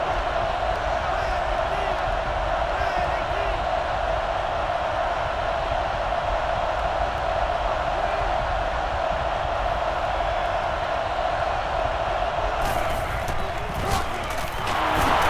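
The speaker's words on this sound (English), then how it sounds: "this crowd is going crazy" A stadium crowd in the NCAA Football 09 video game roars steadily throughout, a dense, loud wall of cheering noise with a commentator talking over it.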